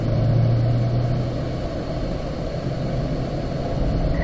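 A Chevrolet Camaro runs in fourth gear on the Spring Mountain race track: a steady low engine rumble with a deeper drone at the start, heard from inside the car, continuous and fairly loud, with no talking.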